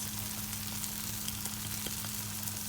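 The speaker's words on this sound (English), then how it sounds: "And now we're going to add in the spices." Steady, even sizzle of spices frying in a pan for chicken fried rice, with a low hum underneath and a few faint clicks, continuous and close with no talking.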